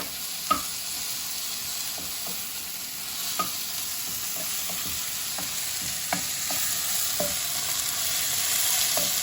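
Mushrooms fry in a pan under a constant bright sizzle, while a utensil scrapes and taps the pan at irregular intervals as they are stirred; nobody speaks.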